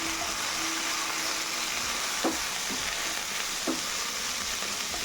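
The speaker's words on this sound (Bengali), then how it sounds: "ভালো করে মশলাটা ভেজে নিয়ে" Potatoes with turmeric, Kashmiri chilli powder and salt fry in hot oil in a pan, giving a dense, continuous sizzle with a few soft scraping stirs.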